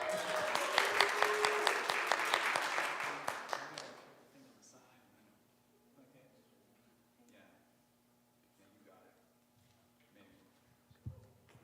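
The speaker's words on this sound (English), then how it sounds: "Let's applause for Hilda." A congregation claps at a livestreamed church service, a few seconds of loud, fast applause that fades out, followed by quiet murmuring voices and faint room noise.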